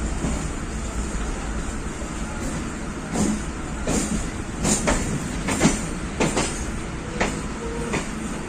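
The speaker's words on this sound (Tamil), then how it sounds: "12:13 வந்துருச்சு நம்ம ட்ரெயின்" A passenger train rolls into Korukkupet station in Chennai with a steady rumbling roar, and sharp wheel clacks and squeals punctuate the din as carriages pass close by.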